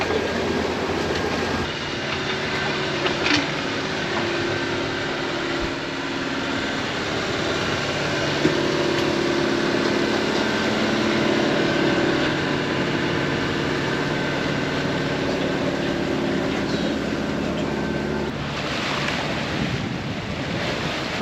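A sailboat motors under engine power across the Gulf Stream with no wind, giving a steady droning hum mixed with a broad wash of water rushing past the hull, continuous and fairly loud.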